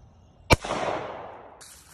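A single sharp gunshot from a handgun fired outdoors during safety practice, one loud crack followed by a long fading echo and a faint noise burst near the end.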